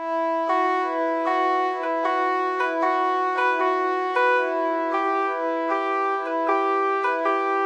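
A bright, pitched-up melody sample plays in slowed halftime, its stretched notes slightly smeared but still landing on a steady beat, with no voices.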